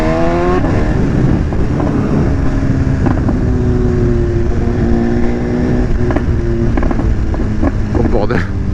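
A loud BMW S1000RR motorcycle with a full Akrapovic exhaust roars and revs up and down through gear changes in town, close and resonant, with a deep throaty exhaust note.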